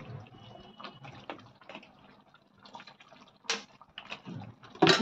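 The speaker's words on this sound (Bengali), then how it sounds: "একটু জল দিয়ে দে" Water is added to Manchow soup in a kitchen, heard as soft, uneven pouring, splashes and drips. Quiet handling noises and brief bumps sit close to the mic.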